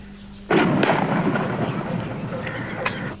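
Heavy artillery gun fire booms out in a war setting, a loud sudden blast followed by a second crack and a long, rumbling roar that slowly fades, with no voices.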